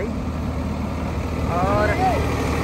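A Farmtrac 45 Powermaxx 50 hp tractor idles in a farm field, its engine giving a steady, continuous low rumble throughout, with a brief faint tonal whine partway through.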